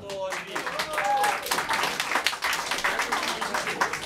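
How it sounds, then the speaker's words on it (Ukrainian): Audience applause at a poetry battle in Ivano-Frankivsk: quick, uneven clapping from a small crowd, moderately close, mixed with voices and a spoken announcement at the start. "Володимир Яшкіль, ваші аплодисменти."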